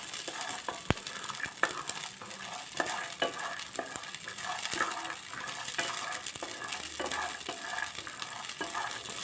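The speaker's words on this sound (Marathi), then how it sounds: "बघा तेलामुळे लगेच कसं भाजायला लागले का नाही आपण" Green peas roast in hot oil in a pan, giving a steady close sizzle broken by scraping and clicking as a spoon stirs them now and then, with no one speaking.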